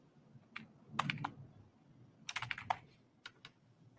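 Typing on a computer keyboard, quiet close keystrokes in two short bursts with a few isolated taps between, alone without speech.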